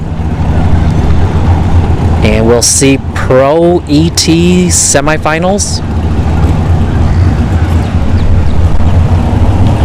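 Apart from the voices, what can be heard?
drag racing cars fired up at dragstrip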